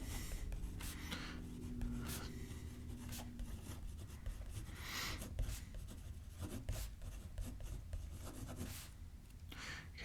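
Pen scratching out text on a card while designing a Magic: The Gathering set, a steady run of soft, close scribbling strokes over a low hum, with no voices.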